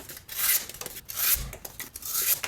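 A flat-ground Spyderco Manix 2 knife slices through cardboard in three close, rasping strokes, each a dry scraping rush with brief pauses between.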